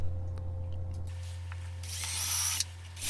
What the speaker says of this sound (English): screwing the bracket into the wall, making sure to level it, and sliding the shelf on